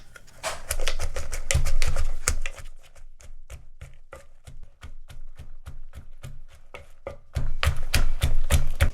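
Lao papaya salad ingredients pounded in a mortar with a wooden pestle, a dense run of close, sharp thuds in a quick steady rhythm, heavier at the start and end with a lighter stretch in the middle.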